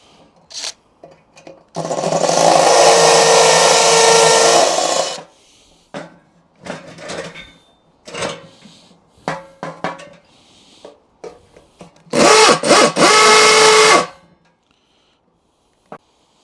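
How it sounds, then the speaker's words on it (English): Power drill enlarging screw holes in a metal beer barrel, two loud bursts of drilling, a longer one and a shorter one, separated by a gap of clanks and handling knocks. "I need to drill the holes out a little bit in the barrel."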